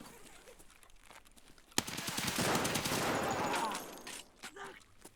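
A close, loud burst of rapid automatic gunfire in the Escape from Tarkov shooter game sounds for about two seconds after a sudden first shot, then stops, and a few faint scattered sounds follow.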